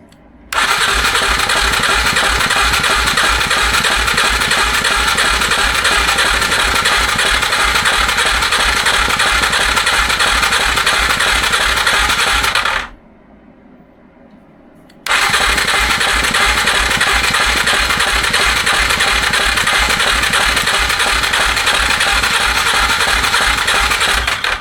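An Arctic Cat 400 ATV engine, salvaged from a junkyard with a suspected compression problem, runs loud and close with a steady buzzing idle. It cuts out for about two seconds, then roars back and keeps running.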